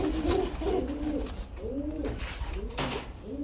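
Lotan pigeons cooing at a farm, a close, loud series of low, rolling coos that repeat through the whole short stretch, with a faint rumble underneath.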